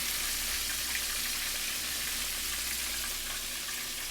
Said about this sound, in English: although the sound of chicken frying is kind of like ASMR